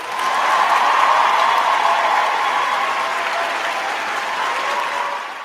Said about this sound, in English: I'm going to give you a round of applause